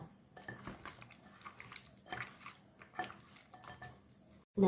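Raw chicken pieces being mixed with turmeric powder and salt in a bowl, giving irregular soft clinks and squelchy stirring sounds, with a sharp louder knock right at the end.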